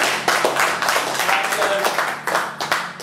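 A small quiz-show audience gives a contestant a round of applause, close, uneven hand clapping with distinct individual claps, starting abruptly and fading in bursts.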